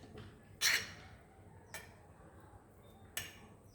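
A fork mixes Goan-style vegetable pulao in a pot, giving three separate clinks and scrapes of metal on cookware: a louder one near the start and two fainter ones later, over quiet background.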